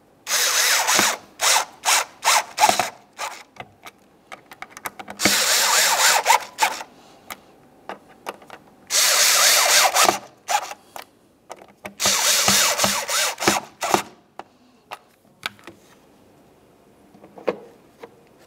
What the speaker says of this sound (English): Now when you tighten these, remember that they're only screwing into plastic.